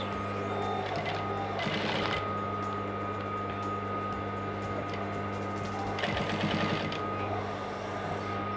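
A sewing machine stitches a trouser facing with a half-inch seam allowance, running in a continuous mechanical whir with two brief louder, faster bursts of stitching.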